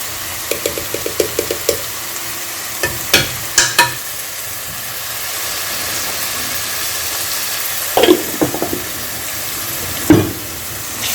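Tinda (apple gourd) fries with spices in a pan, giving a continuous loud sizzle with repeated sharp scrapes and clanks of a spoon in bursts throughout.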